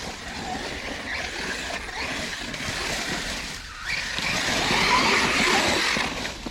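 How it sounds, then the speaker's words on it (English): An Arrma Fireteam RC car drives and pulls handbrake turns on flat-sided tires, a continuous whirring motor and tire scrub that grows louder in the second half, heard alone without speech. "Handbrake, there we go. Handbrake, turn."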